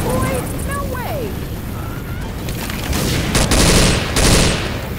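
Enemy gunfire in Left 4 Dead during The Parish campaign, rapid bursts of shots and booming blasts growing louder toward the end, with a voice shouting over the start.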